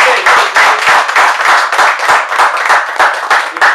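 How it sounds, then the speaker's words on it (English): A studio audience applauds the Long Beach firemen, loud close clapping with rhythmic swells that keeps going without pause. "let's have a round of applause for these great firemen."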